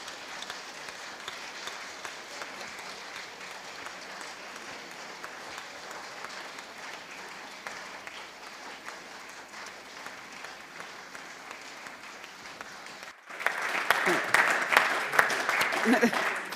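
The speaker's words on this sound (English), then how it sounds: "Well, you're the second person getting so much applause" A conference audience applauds in a dense, sustained wash of clapping that carries on evenly and then swells louder and closer near the end.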